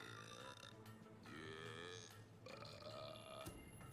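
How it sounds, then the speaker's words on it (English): A game character in Fable III belches at a child, producing long, drawn-out burps in a few sustained bursts, moderately quiet and without speech. "He's gonna belch at this child."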